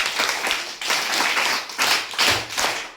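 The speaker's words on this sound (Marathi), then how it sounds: "एकदा आप्पांसाठी आपण जोरदार टाळ्या वाजव" An audience claps loudly at a community gathering, several bursts of hand-clapping that rise and fall in waves, fairly close and without speech.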